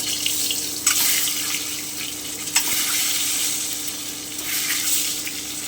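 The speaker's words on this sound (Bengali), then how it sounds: "এবারে আমি ডিমগুলো খুব হালকা করে একটু ভেজে নেবো" Eggs fry lightly in hot oil seasoned with turmeric and salt, giving a steady, bright sizzle throughout, broken by a couple of sharp utensil clicks. No voices.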